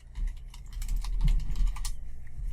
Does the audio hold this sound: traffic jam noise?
no